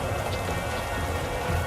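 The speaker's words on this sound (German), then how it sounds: "wieso regnet es denn hier?" Steady rain pours down in the video game Keeper, a dense, even hiss of drops on surfaces that runs continuously and close without any voices.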